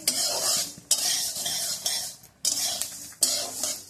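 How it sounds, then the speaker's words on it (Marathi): Sorghum grains are dry-roasted in a pan for thalipeeth flour, stirred in rapid scraping strokes that come in bursts of crackling, rustling grain with brief pauses between them, close and alone. "आता आपण ज्वारी भाजून घेतोय याच्यामध्ये."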